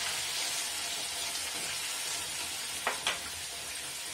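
Torrijas, bread slices soaked and drained, frying in hot oil in a pan, giving a steady close sizzle with a couple of brief sharper crackles near the end.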